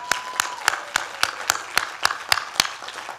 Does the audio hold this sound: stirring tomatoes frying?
no